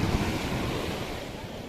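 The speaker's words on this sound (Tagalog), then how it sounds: "Medyo malalaki pa rin ang alon mga kapings." Large sea waves wash and surge close by in a broad, steady roar, with wind buffeting the microphone.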